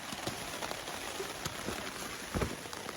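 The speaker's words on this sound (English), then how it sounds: "it's raining hard and consistently" Hard, steady rain falls on a high Colorado Trail campsite near Cottonwood Pass, a faint, even patter with a few louder drops and taps.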